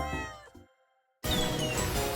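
A cartoon cat in the puzzle game Cats and Seek Kyoto lets out a short meow, then a brief silence gives way to a loud burst of bright game music and chimes as the level completes.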